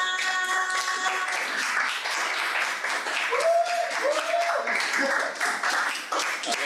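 Applause from a fashion-show audience in Paris greeting a model onto the podium, a steady wash of clapping with a music tone early on and brief voices rising over it.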